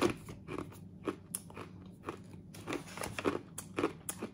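Crunchy chickpea-based spicy snack pieces being bitten and chewed up close, a series of sharp crisp crunches repeating every half second or so with no talk.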